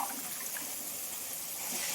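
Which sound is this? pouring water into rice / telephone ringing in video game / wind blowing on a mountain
pouring water into rice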